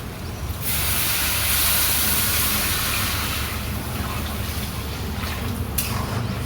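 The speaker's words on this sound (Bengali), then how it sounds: "এখন আমি পরিমাণ মতো পানি দিয়ে দেব।" Water is poured into a hot pan of fried rice for a Bikrampur rice dish, giving a sudden loud, steady hiss of steam and sizzle that holds for several seconds and then eases slightly.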